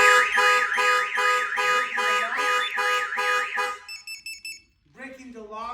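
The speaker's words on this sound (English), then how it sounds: "The alarm will actually trigger that." A Compustar car alarm going off after a break-in attempt, cycling through loud warbling and rising siren tones in a steady repeating pattern, then switching to short chirping beeps and a different swooping tone.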